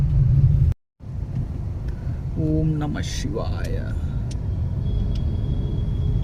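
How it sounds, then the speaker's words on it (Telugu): Heavy road traffic in Haridwar near Har Ki Pauri ghat: a constant low rumble of engines and wind buffeting the microphone, with scattered horn honks and a voice chanting briefly over the din. "ఫుల్ ట్రాఫిక్ అయితే ఉంది."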